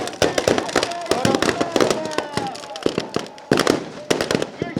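Rapid, irregular firecracker bangs crackle close by in dense bursts from a burning 30-foot effigy at a protest, with a few brief pauses, while voices murmur faintly in the background.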